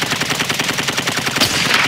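Rapid automatic gunfire in Call of Duty Modern Warfare II during a gas station battle, a loud continuous burst of evenly spaced shots lasting the whole two seconds.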